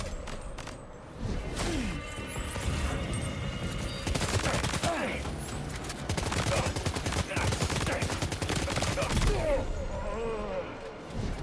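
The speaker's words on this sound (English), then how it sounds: "Shotgun ain't working at that range." Rapid bursts of gunfire in the video game Death Stranding 2, dense clattering shots packed into a sustained volley with mechanical clicks and whooshes, loud and continuous across most of the stretch, no talking.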